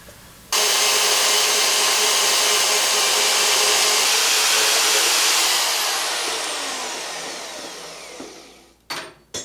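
A VEVOR portable band saw on a stand cuts through tubing. The motor starts abruptly into a loud, steady whining drone, holds for several seconds, then slowly winds down, ending with a couple of faint clunks.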